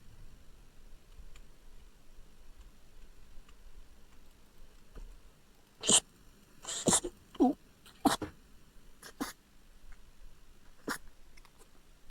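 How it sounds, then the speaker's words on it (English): Several sharp sneezes from someone with hay fever in a quiet garage, a pair of loud bursts followed by a few smaller ones in quick succession, close to the microphone, with little else around. "Due to the hay fever, and I start recording a video, then I start sneezing."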